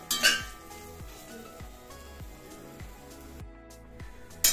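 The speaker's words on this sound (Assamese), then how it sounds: "ইয়াত দিছো জলকীয়া দি গোটেইখিনি আকৌ অলপ লৰাই দিলো" Food stirred in a pot after green chillies go in, the spoon scraping and clinking against metal in a steady rhythm of regular strokes, close and fairly quiet, with a brief louder clatter at the end.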